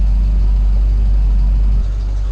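An early Ford Bronco rolling along just out of the shop, its engine giving a deep, constant low drone close up with no talk.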